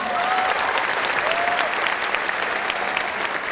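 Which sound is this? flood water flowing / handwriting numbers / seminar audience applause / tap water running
seminar audience applause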